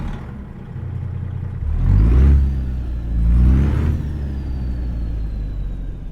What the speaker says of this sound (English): we'll roll down the window so you can hear the engine a little bit when I start it up